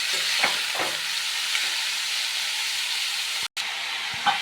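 Onions frying in a pan for egg curry while being stirred: a steady, close sizzling hiss runs throughout, broken by a few soft scrapes and one brief dropout, with no voices.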